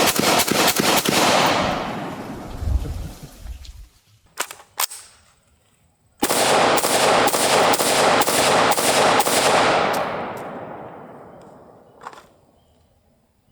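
Sharp rifle shots from an IWI Tavor X95 at a rubber dummy crack out in fast strings, first a rapid burst, then a few single shots, then a long quick volley ending in echoing decay, loud and close.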